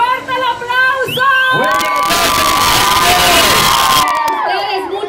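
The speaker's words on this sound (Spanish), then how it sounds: "¡Fuerte el aplauso!" At a carnival queen's crowning, a big crowd claps and cheers loudly, with whoops and children's shouts over continuous applause and an amplified announcer's voice.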